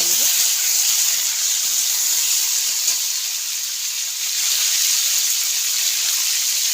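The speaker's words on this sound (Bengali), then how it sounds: "ভালো করে ভেজে নেব।" Pieces of raw mango fry in hot oil for a fish sour curry, giving a loud, steady, close sizzle and hiss that runs without a break, with no talk.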